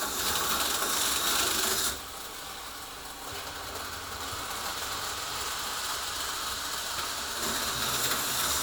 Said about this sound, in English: I just like the combination of the cars and the trains going at the same time.